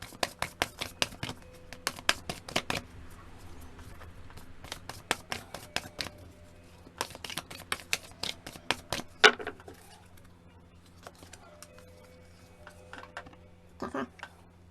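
Tarot cards being shuffled by hand, heard as bursts of crisp snapping and slapping taps with short pauses between, close and fairly quiet over a low hum.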